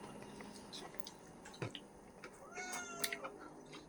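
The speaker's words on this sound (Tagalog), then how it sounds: "Ang iring dahil gutom na po. Hindi na miyaw-miyaw." A hungry cat meows a few times at dinner time indoors, the cries short and fairly close, with faint household clatter and dripping around them.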